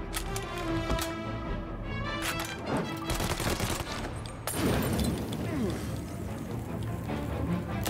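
Machine gun fire in the video game Mafia Definitive Edition, scattered bursts of shots and clattering mixed with game noise and voices talking over it.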